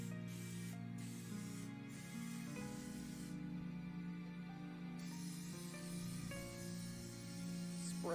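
Cooking spray hissing onto a hot waffle iron, a long continuous spray with a couple of short breaks, over a steady background hum.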